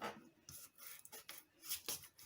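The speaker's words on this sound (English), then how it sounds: "And then you're literally just going to rub it along." Masking tape being rubbed firmly over a cut Cricut vinyl transfer, a series of short, faint scratchy rasping strokes at an uneven rhythm, close by and with no talking.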